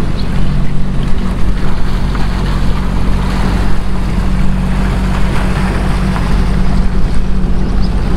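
A Scarab 165 jet boat idles and nudges toward a dock with a steady, low engine drone. Wind buffets the microphone and water splashes close by, and no one speaks.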